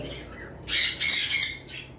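Pineapple conure parrots give three loud, harsh squawks in quick succession, each bursting out close by over a faint background, with a shorter call trailing after.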